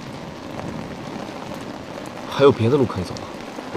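A heavy mountain rainstorm makes a steady, dense hiss of rain throughout, while a voice briefly speaks over it near the end.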